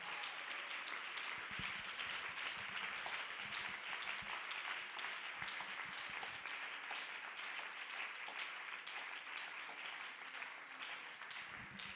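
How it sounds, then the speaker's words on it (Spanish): Congregation applauding at a church service, a steady wash of many hands clapping that fills the space for the whole stretch, with a few softer dips but no break. "dele un aplauso al Señor, hermano"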